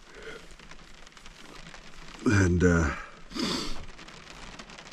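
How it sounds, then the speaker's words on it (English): Steady rain falls outside a truck camper on a cold, wet day, a soft continuous patter through the walls, while a person talks briefly over it. "And it's just raining out there."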